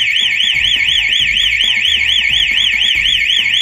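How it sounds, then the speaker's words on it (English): AVS car alarm's internal piezo siren wailing continuously, a loud, piercing warbling tone that rises and falls in rapid regular sweeps, heard close up with faint low rustling beneath. "This AVS is fitted with an internal piezo siren."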